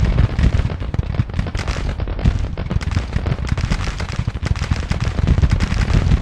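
Musket-armed troops firing in a Civil War strategy game: dense, continuous crackling volleys of many overlapping shots, loud and close, with booming low thumps mixed in and no voices.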